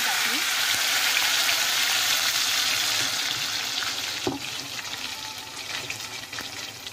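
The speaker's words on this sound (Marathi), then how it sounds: "त्याच्यात आपण तेल टाकून घेऊया." Oil sizzling steadily in a kadhai heated for gravy, a loud, continuous hiss that eases slightly partway through, with a few soft clinks near the end.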